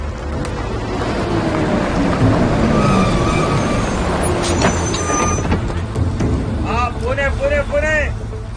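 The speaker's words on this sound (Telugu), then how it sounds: "ఏదో బస్సు వస్తుందిరా" A bus rumbles loudly and steadily on a road in heavy rain, with its broadband engine and road noise running throughout; near the end a voice chatters in short bursts over it.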